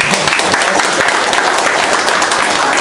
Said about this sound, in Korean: 큰 박수 한번